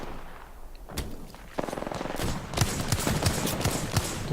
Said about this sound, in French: Attention, on voit que ça tire un peu des deux côtés.